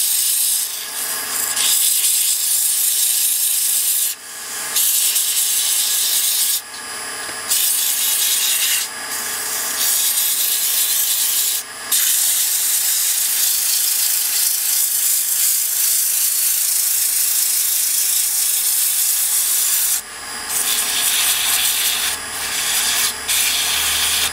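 Steady, loud abrasive rasping of 80 grit sandpaper against wood spinning on a lathe while turning a dibber, continuous with a few brief pauses, close and harsh with bright hissing texture.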